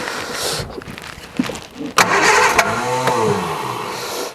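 A 1968 Triumph Vitesse engine on choke cranks briefly, then catches and fires into a steady, loud idle close by with a few throttle blips.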